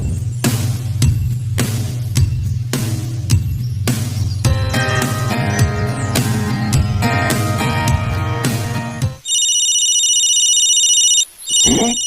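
A telephone rings loudly in repeated electronic ringtone bursts, starting over a steady low engine hum and a musical backing, then continuing alone as a high, sustained warbling tone near the end.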